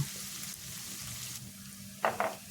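Ginger and garlic fry in a pan for a Kottayam-style Kerala sardine curry, a steady soft sizzle throughout with two brief louder scraping stirs near the end.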